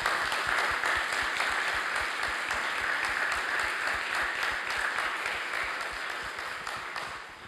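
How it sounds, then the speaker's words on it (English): An audience in a church applauds a priest after his presentation. Dense, steady clapping fills the space at close range and holds for several seconds before gradually thinning and fading toward the end. "Let's give him a round of applause."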